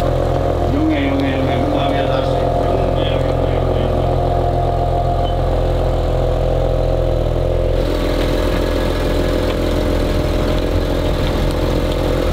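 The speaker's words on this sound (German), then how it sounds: "Du fährst jetzt raus, wir gehen raus und du fährst einmal so langsam weg." A lowered Maserati Ghibli S Q4 rumbles at low speed with a steady, deep engine note that shifts slightly partway through as it pulls away, while people talk nearby.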